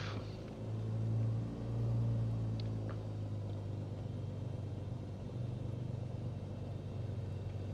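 A Cirrus SR22 piston engine idles steadily while taxiing in a flight simulator, a continuous low droning hum with a slight swell in the first few seconds, no talking.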